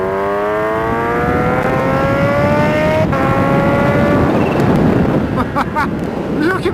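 Kawasaki Ninja H2 supercharged motorcycle engine under way, a loud continuous rising whine as it accelerates through the revs, with heavy wind rush and a brief shift near the end.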